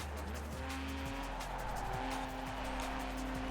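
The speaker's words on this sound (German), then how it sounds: "Mit Vollgas um die Kurve" A race car engine holds a steady high note through a corner at full throttle in Forza Horizon 4, with tyres squealing and the pitch shifting as it rounds the bend. It plays close and alone, with no talk.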